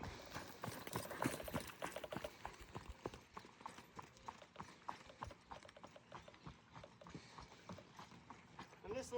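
A young mare being ridden through suppling exercises clip-clops in a steady, rhythmic hoofbeat pattern close by, continuing throughout while someone speaks over it.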